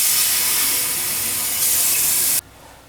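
Water rushes steadily from a shower or tap while Simfort DHT blocking shampoo is rinsed out of hair, a loud, close hiss that runs for over two seconds and then cuts off abruptly, leaving near-quiet.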